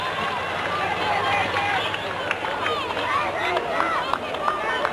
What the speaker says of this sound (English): the opposing fans give you a hand for getting a foul ball